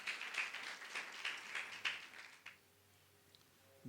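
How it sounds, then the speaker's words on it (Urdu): An audience applauds to welcome Moses at a church prayer gathering, a dense spread of claps lasting about two and a half seconds before fading into near silence. "ایک بار پھر تالیاں بجا کر موزز کو ویلکم کرتے ہیں۔"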